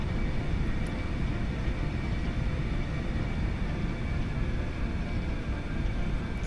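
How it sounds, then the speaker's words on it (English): In the X-Plane 11 flight simulator, an airplane rolls down the runway after touchdown, giving a steady, even rumble of engine and wheel noise at moderate volume, with no voices. "Throttle back, let her roll, slow her down easy."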